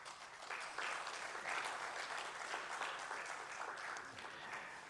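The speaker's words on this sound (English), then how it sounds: "Please give him a big round of applause." An audience at a history lecture on Nehru applauding warmly, a steady wash of clapping that swells and holds for several seconds, heard from within the room.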